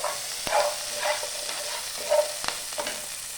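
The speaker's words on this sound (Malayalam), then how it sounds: "വീണ്ടും ഒരു 2 സെക്കൻഡ് ഇളക്കുക." Green chillies fry in a pan while being stirred, making a soft steady sizzle broken by repeated scraping strokes and light knocks of the spoon, close and without talk.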